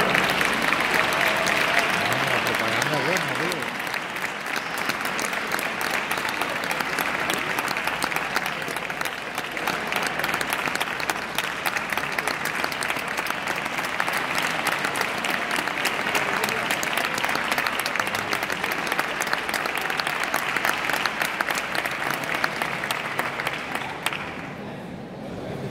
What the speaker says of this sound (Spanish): vamos a dar un fortísimo aplauso a la banda de música y el Nazareno de las Torres de Álora